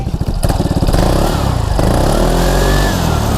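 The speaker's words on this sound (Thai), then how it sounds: "มาเดี๋ยวฟังเสียงท่อกันนะครับ" A 2024 Vespa Sprint 150 scooter engine putters with rapid pulses, then revs up into a steady, close, droning exhaust note.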